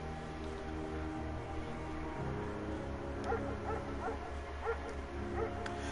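Mayhem, a dog in the video game Firewatch, barks and yips in short bursts over a steady low hum of game ambience and music.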